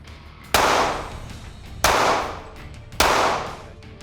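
Two sharp gunshots ring out at a firearms training range, each a loud crack with a long decaying echo, followed by a third similar report, fired at a target, with no talking.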